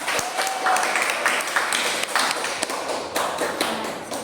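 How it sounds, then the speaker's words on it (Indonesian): Classroom applause from a group of students after correct answers, a dense, steady patter of many hands clapping at close range that carries on evenly throughout. "Silakan beri tepuk tangan semua."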